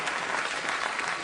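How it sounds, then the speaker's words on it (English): A late-night talk show studio audience breaks into applause, a brief, dense burst of many hands clapping close and full, with no voices on top. "what the audience is telling us with that applause"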